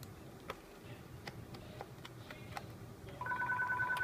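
A phone starts ringing with a steady repeating electronic ring in a quiet room during a Samsung 270E5Q laptop teardown for an SSD swap. Faint ticks and small clicks come before it.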